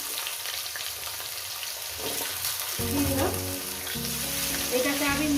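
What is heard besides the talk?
potatoes frying in a pan with banana flower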